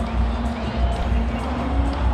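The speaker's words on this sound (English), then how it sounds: "The crowd's happy and about again." Large stadium crowd at a cricket T20 match between India and Sri Lanka, a steady roar of cheering and babble filling the ground with no clear breaks.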